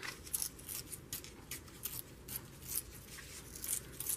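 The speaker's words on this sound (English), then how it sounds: "I'm going to rip this a little more." Paper is torn by hand for a junk journal made from holiday cards, with a series of soft, close rips and rustles at an irregular pace, quiet and without talk.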